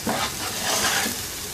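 Beaten eggs sizzle loudly in a hot pan as they are stirred and scrambled for khagina, a brief, close, continuous frying hiss with no voices.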